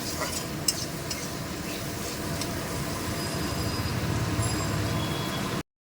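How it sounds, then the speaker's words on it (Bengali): Two chopped onions fry in a pan until browned for a green jackfruit and prawn curry, giving a continuous, even sizzle with no one speaking. "পেঁয়াজটা ভালো করে লাল লাল করে ভেজে নেব।"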